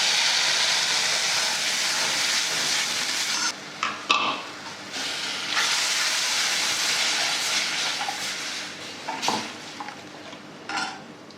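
Ground peanut paste goes into a simmering pot of fasting-style peanut amti, with a steady bubbling hiss, a few spoon knocks and scrapes against the pot, and no voices.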